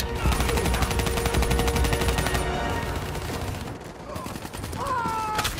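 Sustained automatic gunfire and bursts of shooting in the video game Call of Duty: Black Ops 3, loud and dense for the whole stretch, thinning briefly before resuming amid battle noise.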